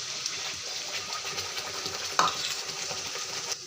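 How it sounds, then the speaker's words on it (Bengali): Spice paste masala with onions frying in a pan for a Sunday meat curry, a soft continuous sizzle with a stirring scrape and one sharper clink near the end, close and moderately quiet, no talking. "মশলাটা ভালো থেকে একটু ভাজা হয়ে যাক"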